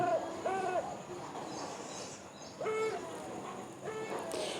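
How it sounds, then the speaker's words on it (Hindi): An owl hoots in a forest at night, giving several short, faint calls spaced a second or more apart over quiet background hiss. "ये आप आउल साउंड को सुन रहे हैं।"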